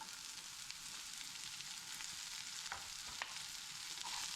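Spinach wilts in a hot pan with a steady, faint sizzle and frying hiss, plus a few light stirring taps, and no one speaks.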